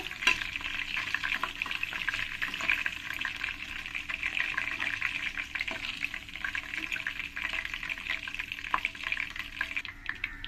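Chicken pieces for a curry fry in a pan with a steady, bright crackling sizzle that holds at an even level throughout, with no talking.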